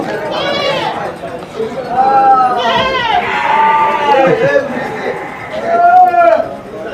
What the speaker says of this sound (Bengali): তো এখানে অনেক ছাগল আছে